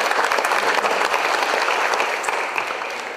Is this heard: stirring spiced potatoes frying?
no